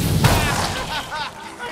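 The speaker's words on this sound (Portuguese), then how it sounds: "Deu um tiro, Peter!" Gunfire in the video game Marvel's Guardians of the Galaxy, a loud booming shot followed by a few rapid cracks and rumbling echoes under game noise.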